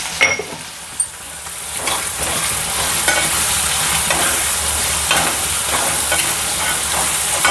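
Onions sizzle steadily in a hot pan while salt goes in, with scraping stirs and a few sharp metal clinks at the start, close and continuous with no talk.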